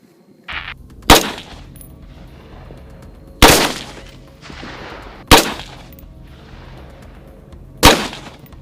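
An AR-15 / M4 rifle fires four loud, sharp single shots at uneven intervals, each with a brief ringing decay and quieter clatter between shots, with no talking.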